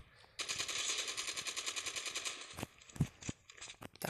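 Rapid automatic gunfire in the mobile shooter Call of Duty Mobile, a sustained close burst followed by scattered single shots and impacts.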